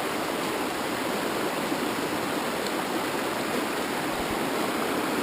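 A creek in a deep forested canyon on Oregon's north coast rushes steadily with broadband water noise, close and constant, with no voices.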